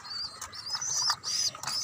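Pigeon chicks on a rooftop garden give thin, high chirps in quick, irregular bursts, close and fairly clear over a faint low background hum.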